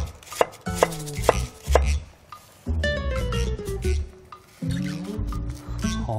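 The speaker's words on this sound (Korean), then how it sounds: "양파는 다져줄게요." Rapid, crisp knife taps on a cutting board as onion is minced, coming in quick bursts with short pauses between them.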